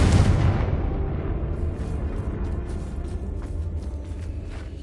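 A Confringo explosive spell goes off in a Hogwarts video game with a loud, close boom. The blast rolls off into a rumbling decay, with faint crackling debris and scattered pops trailing behind.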